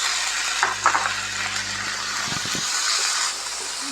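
Sita eggplant (brinjal) fries with softened tomato in a pan, giving a continuous hissing sizzle with a low hum underneath and a couple of brief scraping stirs.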